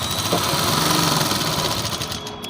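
A sewing machine runs steadily at close range, stitching a seam on a Nyra-style suit with a fast, even mechanical whir and rattle throughout.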